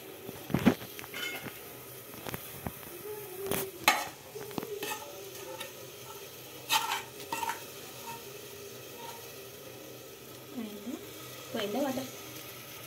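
Oil goes into a thick, heavy pan for fish biryani and sizzles softly, with clinks and scrapes of a spoon and utensils stirring close by while a person talks over it.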